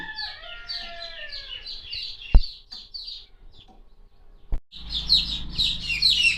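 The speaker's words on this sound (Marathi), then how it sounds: "आता हे बघा एका दिवसाचं प्युअर गावठी कोंबडीचं पिलू आहे" One-day-old pure desi gavthi chicks chirp during brooding in a power cut, high rapid peeps in quick repeated bursts, close and fairly loud, broken by a couple of sharp knocks before a denser flurry of cheeping.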